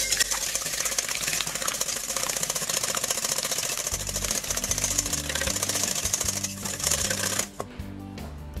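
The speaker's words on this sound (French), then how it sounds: "Et on va les battre en omelette." Eggs are beaten for a cherry clafoutis, making a fast, continuous clatter against the bowl that runs for about seven seconds and then cuts off. It is close, with no talk.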